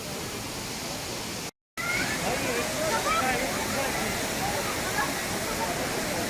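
A broad, steady roar of water falling at Düden Waterfall in Antalya, running low in summer, fills the scene, loud and close, broken by a brief moment of silence near the start.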